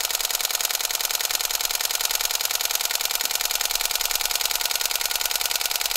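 Canon 7D Mark II DSLR shutter firing nonstop in continuous burst mode, a dense, rapid, perfectly even mechanical clatter held close and steady throughout with no voices.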